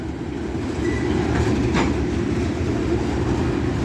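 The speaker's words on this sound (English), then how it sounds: "This is a pretty long train for medley purposes." A long freight train rumbles steadily past close by at a railroad crossing, a continuous heavy low roar with faint rail squeals, no voices.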